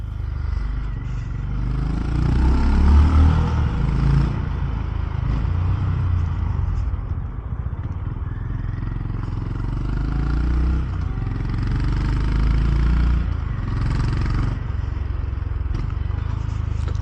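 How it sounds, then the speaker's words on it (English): A Honda GB350S motorcycle on a road ride, its engine giving a steady low rumble throughout with slight rises and falls in throttle, close and continuous with no talking. "I'm riding the Honda GB350S. So let's take it out for a spin."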